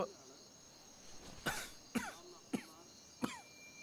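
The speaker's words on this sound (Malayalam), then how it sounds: "ഭയങ്കര ചുമയാണല്ലോ." A smoker's heavy, chesty coughing: four sharp coughs about half a second apart after a throat-clearing start, close and fairly loud over a faint steady hum, with no talking.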